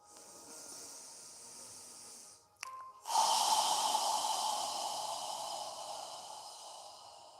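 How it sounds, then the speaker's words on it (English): A deep exhale through the mouth as if fogging a mirror, a long airy hiss swelling in after a short catch, close and steady, with softer breathing before it and no talking. "as you exhale through your mouth, imagine you're fogging a mirror with your breath"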